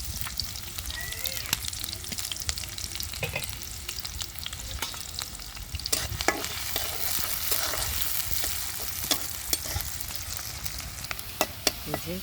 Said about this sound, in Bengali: এই যে ডালটা এখন বাগার দিয়ে নিব। পেঁয়াজ কুচি রসুন কুচি দিয়ে দিলাম।